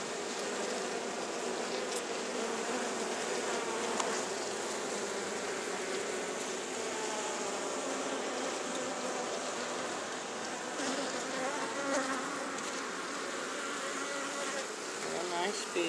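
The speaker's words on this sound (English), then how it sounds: "Real nice bees." A bee colony buzzes continuously inside a wooden window box under a window, a dense, steady hum of many insects heard up close at moderate level with no pauses.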